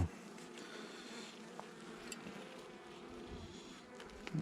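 Buckfast honeybees buzz at the hive entrance as pollen comes in, a dense, continuous close hum of many bees with no talk.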